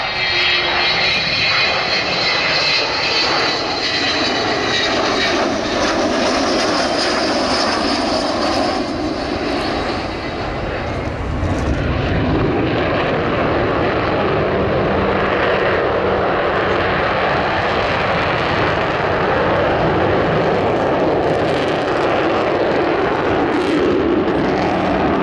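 An Avro Vulcan bomber flying at the RIAT airshow, a continuous loud roaring jet engine rumble that swells and shifts with a howling edge, sustained throughout without speech.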